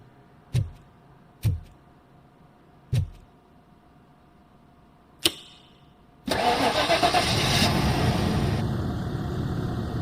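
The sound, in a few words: car engine starting after coil reconnected, RoboCop: Rogue City video game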